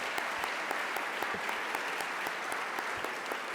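Steady, dense audience applause fills a symposium hall on affordable housing, continuous and even from start to finish with no voices breaking through.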